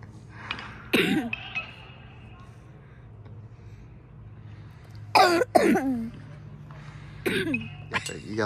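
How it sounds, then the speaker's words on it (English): A man at a baseball game coughs in several harsh bursts, first a single cough and then a cluster of rapid coughs, close and loud against a quiet outdoor background. "Hey, you got a coughing fit?"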